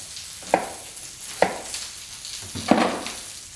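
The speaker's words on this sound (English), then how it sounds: "The carrot carry on caramelizing. The onions are just starting now." Carrots and onions caramelizing in a pan for stock, a steady soft sizzle with three distinct stirring scrapes spaced about a second apart, heard close.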